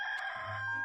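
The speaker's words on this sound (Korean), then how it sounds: "개울 북쪽에서는 닭이 울고" A rooster crows as a sound effect, a single bright, sustained call that fills the whole short stretch, loud and close, with no talking over it.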